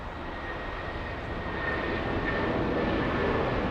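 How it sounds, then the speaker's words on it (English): A Boeing 787 Dreamliner airliner on landing approach after a flight from Haneda, heard as a steady, broad engine roar with a faint whine that builds slightly over several seconds, fairly distant and without talk. "Big Dreamliner coming in, 787."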